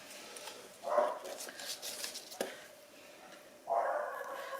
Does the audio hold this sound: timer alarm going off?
no